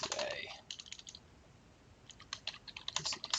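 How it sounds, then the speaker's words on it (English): Keys clattering on a computer keyboard as a paragraph is typed into a WordPress page, quick irregular bursts of clicks with a short pause midway, close and fairly quiet. "we're just going to type in a bit of a paragraph here"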